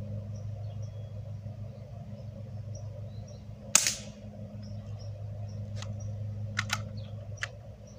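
A single sharp BB gun shot cracks out amid a low steady hum outdoors during long-range shooting, followed by a few faint clicks and taps, with no talking.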